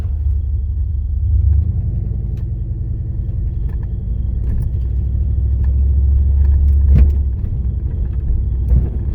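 Car driving along a road late at night, a steady loud low engine and tire rumble heard from inside the cabin, with a brief bump-like swell, no talking.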